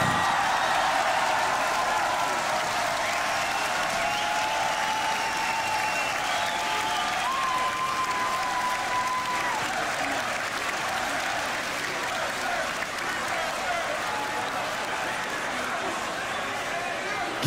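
A live crowd at the Grand Beatbox Battle 2021 applauds steadily for beatboxer King Inertia, a dense, even wash of clapping and cheering that holds at a constant loud level throughout with no break.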